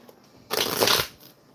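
Tarot cards being shuffled in one quick riffling burst of papery flutter lasting about half a second, close and clear, with quiet room between.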